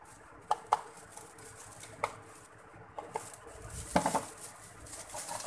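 Hair colour mixed in a bowl with a brush or applicator, heard as sparse light taps and clicks against the bowl rim with a soft swishing stir near the end, close and fairly quiet.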